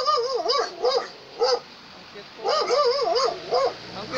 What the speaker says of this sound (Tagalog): May mga tuta po siya.